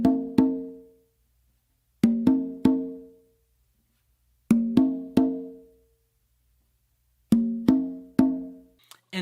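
Open tones on conga and tumba are struck in small clusters of two or three crisp, ringing hits separated by pauses, forming part of a tumbao pattern, close and unaccompanied.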